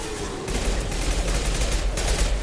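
Sustained heavy gunfire from the Mass Effect 2 video game, a dense, continuous rattle of shots with repeated sharp peaks across the whole stretch, loud and close, with no speech over it.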